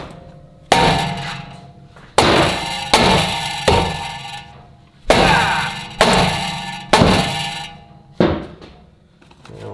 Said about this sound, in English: Sometimes you can get lucky with a rubber mallet, whack it.